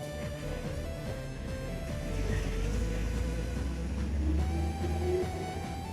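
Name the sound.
truck passing by on the road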